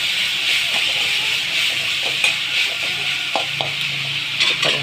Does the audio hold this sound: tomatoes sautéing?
yes